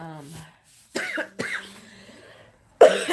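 Several sharp coughs burst out in quick succession, close and loud, with a short breathy pause between them and another harsh cough at the end.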